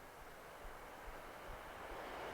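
A train passes at a distance as a steady, faint broadband rumble that swells slightly toward the end, with no voices.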